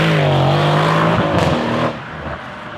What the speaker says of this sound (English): At full throttle, the engine screams with a ferocity that is almost tangible